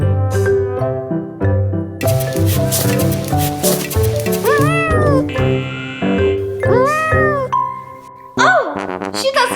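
A cat meows several times in rising, drawn-out cries over busy background music with chiming tones.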